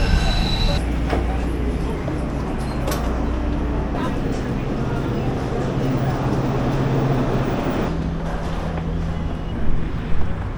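A Los Angeles metro train rumbles steadily at a station platform, a low continuous drone with some wind noise, with brief voices and clatter near the end.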